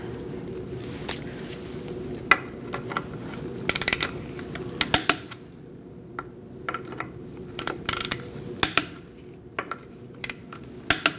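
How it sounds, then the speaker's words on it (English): A torque wrench tightens wheel lug nuts on a Chevrolet Colorado, giving scattered close ratcheting clicks and sharp metallic ticks in short irregular bursts over a low hum, with no talk. "We're going to torque our wheel to 103 foot-pounds."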